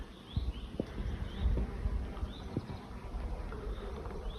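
A hornet forages on flowering hawthorn beside beehives, its low buzzing hum drifting in and out amid the faint hum of bees, with a few soft knocks and rustles close by and no one talking.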